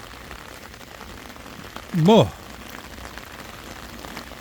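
Heavy rain pours down in Walsall Arboretum, a constant dense patter close by, and a voice cuts in briefly midway.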